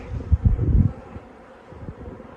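Honey bees hum low and steady from an open hive checked in winter, a soft buzzing swell that fades into quieter background droning.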